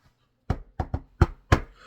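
Five sharp knocks on wood ring out close and loud in an irregular rhythm, the second and third close together, with silence before and between them.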